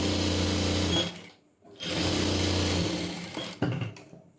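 A sewing machine runs close by, stitching pant fabric in two long continuous bursts with a short pause between, then a brief restart at the end; no voices.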